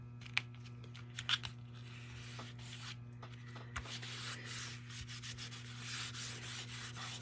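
Glued paper being rubbed down onto a card by hand, soft scattered rubbing and brushing strokes with a few small taps, quiet and close over a faint steady hum.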